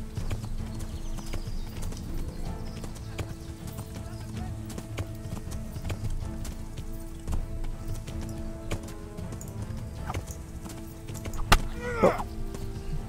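Steady, rhythmic clip-clop of horse hooves over a low background hum, with a brief whinny-like squeal near the end, in the video game Kingdom Come: Deliverance.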